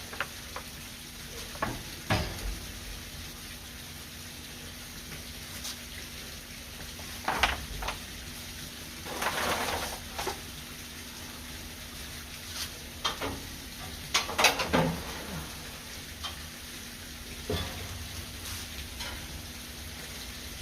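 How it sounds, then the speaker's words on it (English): Beef short ribs set onto a hot smoker grate, soft sizzling and scattered clunks and scrapes of meat and metal, several sharp clatters spread across a quiet pit hum. "I guess it's time to put these beef ribs on."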